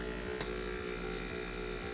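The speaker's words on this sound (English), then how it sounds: "I'll turn on the compressor." Compressor of an IK e Foam Pro 2 sprayer running with a steady close electric hum and buzz, continuous and even throughout.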